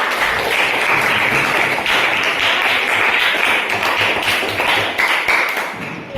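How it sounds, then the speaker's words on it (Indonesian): A classroom of students applauds a classmate, with loud, dense clapping that stays steady for about six seconds before trailing off. "Tepuk tangan dulu untuk Neta."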